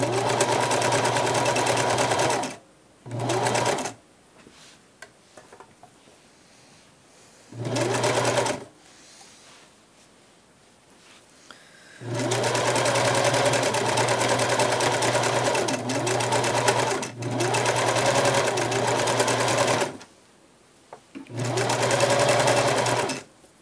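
A sewing machine stitches a cotton drawstring bag with a regular stitch, running in loud close bursts of rapid buzzing that start and stop repeatedly, with quiet pauses between runs.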